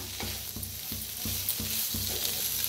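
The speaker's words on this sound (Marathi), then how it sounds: "तेला बी ह्याच्यातच मिक्स करून भाजूया। तर मिक्स करून भाजायला लागले बघा" Cumin, sesame and coriander seeds dry-roast in a pan while being stirred, a steady close hiss with regular scraping strokes roughly every third of a second.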